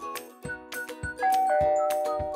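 A bright electronic chime from a SkyBell HD video doorbell rings out a short melodic sequence of tones, clear and close with no talking.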